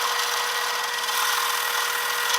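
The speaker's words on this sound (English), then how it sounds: "So I'll drill it down to the depth or the thickness of this T-nut to fit in" Power drill boring a hole into wood for a T-nut while building a bandsaw circle-cutting jig, a steady, close, high-pitched whirring grind held without pause.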